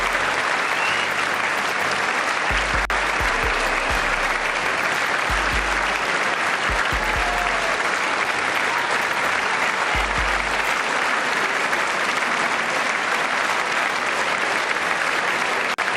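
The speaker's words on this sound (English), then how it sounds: "that's a long clap" Long sustained applause from a large crowd at a State of the Union address, a dense, even roar of clapping holding steady throughout at a moderate distance.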